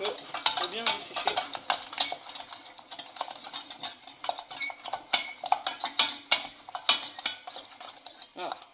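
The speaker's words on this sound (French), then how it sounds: "Donc on continue à mélanger un petit peu pour bien dessécher." Choux pastry dough being stirred in a saucepan over heat to dry it out for profiteroles, with steady scraping and clinking of a utensil against the pan, close and continuous, with a faint sizzle underneath.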